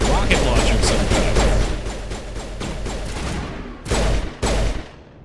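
Dense gunfire and heavy explosion booms from a firefight in the game Mass Effect, including a rocket launcher, loud and continuous, then two sharp blasts near the end.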